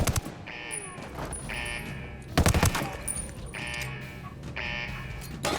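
Short bursts of gunfire from the video game Ghost Recon Wildlands, with a sharp, loud volley near the middle, separated by quieter game sounds and tones.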